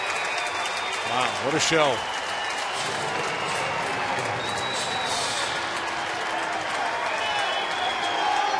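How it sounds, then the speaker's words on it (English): Baseball fans applaud and cheer steadily for Berkman at the Astros' Houston ballpark during a Cardinals game, a broad, sustained crowd roar with a commentator talking over it. "a nice round of applause by the fans that remain here tonight"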